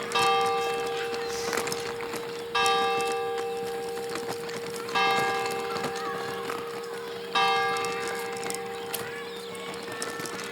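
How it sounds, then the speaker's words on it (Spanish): A church bell in the village of Rupit, which rings every quarter hour, strikes four slow, resonant tolls, each ringing out and decaying before the next, with faint outdoor ambience and no talking. "en Rupit está sonando la campana todo el tiempo"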